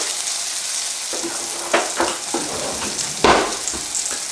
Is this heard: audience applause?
no